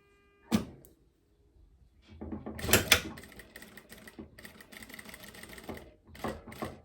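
A sewing machine stitching down the pleats on a dress: one brief knock, then after a pause the machine runs in a fast, steady mechanical whir with small clicks and rattles for several seconds.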